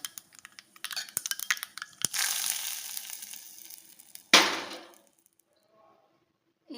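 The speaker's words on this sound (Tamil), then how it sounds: "இப்போ இதுக்கு நம்ம கடுகு தாளிக்க போகிறோம்." Mustard seeds are tempered in hot oil for a Rama Navami offering. Scattered crackling pops come first, then two sharp hissing sizzle bursts that fade, followed by near silence.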